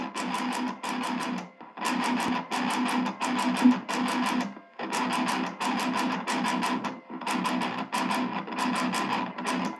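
An electric guitar tuned to low B standard plays heavy, distorted palm-muted chugs in tight repeated bursts separated by brief pauses, loud and close with no talk.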